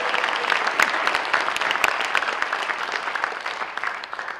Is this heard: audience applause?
yes